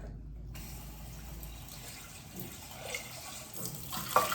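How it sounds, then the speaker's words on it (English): A dish gets a quick rinse under a running kitchen tap, a soft, steady stream of water that splashes a little more in the last seconds, heard alone without speech. "And then I'm also just gonna rinse this out really quick."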